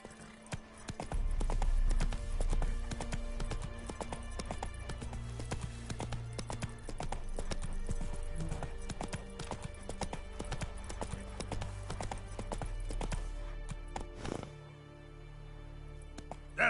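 Galloping hoofbeats of Roach, the horse in The Witcher 3, pound out a rapid, steady rhythm up close, slowing and easing briefly near the end before picking up again.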